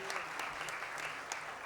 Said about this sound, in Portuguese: Esse, com certeza, terá uma salva de palmas um pouco mais efusiva.